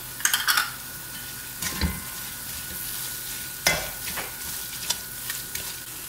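Turkey curry with garam masala being stirred in a pan, with soft scraping strokes and a few sharper utensil knocks against the metal over a faint, steady sizzle.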